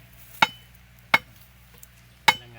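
Three sharp, ringing hammer blows drive a wooden stake at a slow, uneven pace, loud and close, with quiet pauses between them.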